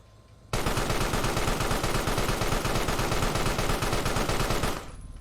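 Rapid automatic gunfire from the video game Carrion, a turret and weapon blasting continuously, loud and dense with fast repeating shots for about four seconds before cutting off abruptly.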